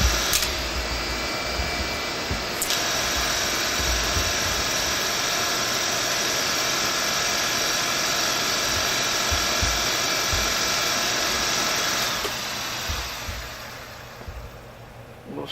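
A Victor 16mm projector running with a newly replaced belt, its motor giving a loud, steady whirring hum with mechanical chatter for about twelve seconds before winding down and fading near the end.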